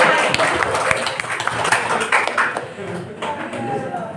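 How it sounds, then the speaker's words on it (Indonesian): Workshop participants clap together in a busy, uneven burst of hand claps that gradually thins out, with talk mixed in underneath. "Baik, berikan tepuk tangan."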